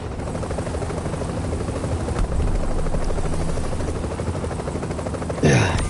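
A helicopter arriving for extraction in The Division, in the Survival 'Heartland' mode, thumps loudly and steadily with constant rotor noise throughout, swelling briefly near the end.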